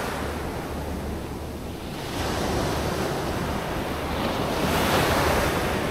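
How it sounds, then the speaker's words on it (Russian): Sea of Azov waves break and roll on the Crimean coast in a constant rushing surf, heavily buffeted by wind noise on the microphone, with no one speaking. "Азовское море."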